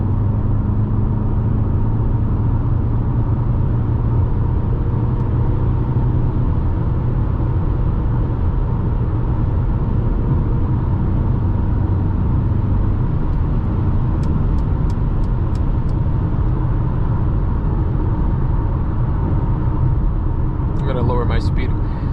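A 2020 Mercedes GLA heard from inside the cabin at night, its engine giving a steady loud rumble and road roar that runs unbroken at constant level, with a few faint ticks near the end.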